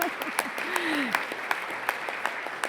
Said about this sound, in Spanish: si quieren darle un aplauso